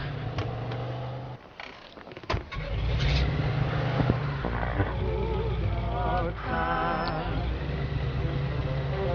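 Car driving through the streets in the video game Mafia 2, a steady engine hum and road rumble running throughout, with short bursts of sound near the start and a melodic tone weaving through the second half.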